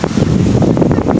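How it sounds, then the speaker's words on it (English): Strong wind on San Juan beach hammers straight into the microphone, a loud, continuous low rumble and buffeting with no talking. "Oh man, it's so windy, I'm sorry."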